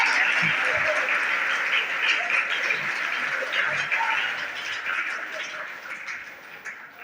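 Young students clap and cheer at a stage event in an MCC festival hall: continuous, lively applause with scattered shouts, loud at first and gradually easing.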